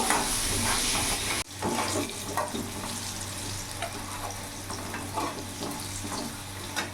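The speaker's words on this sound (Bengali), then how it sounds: "লাল লাল করে ভেজে নেব।" Steady, close frying sizzle with salt and turmeric in the pan for a rohu fish curry. Irregular stirring scrapes run throughout, with a brief break early on. No speech.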